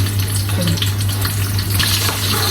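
Five onions frying in hot oil until brown for kolbi biryani, a dense steady sizzle close by with a low electrical hum underneath and no voices.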